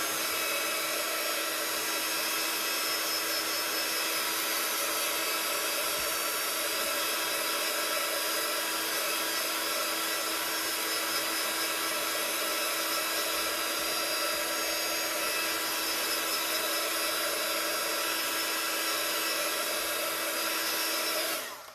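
A hair dryer runs steadily at close range, drying paint in a continuous, unbroken whir that fills the whole stretch and cuts off sharply at the end.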